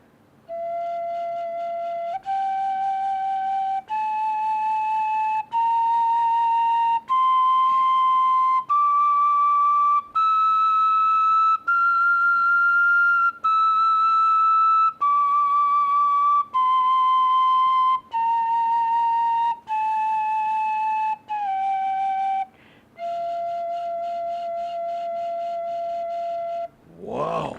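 A small, bright Thai bamboo flute (khlui lip) plays a slow scale up and back down, each note held steadily with a breathy, whistle-like tone, close and clear.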